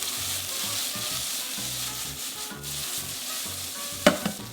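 Mushrooms fry in butter in a pan, a continuous close sizzle with a soft low bubbling undertone and a brief sharper crackle near the end, no talking.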